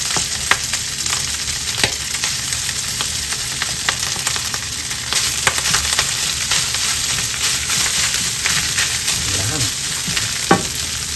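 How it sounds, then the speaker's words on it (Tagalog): Garlic fried rice of freshly cooked basmati sizzles and crackles steadily in oil left from frying eggs and dried fish, with occasional sharp pops and stirring scrapes, loud and close with no talking. "At sa pinagprituhan po ng itlog sa kanang tuyo, dyan po tayo magsasangag."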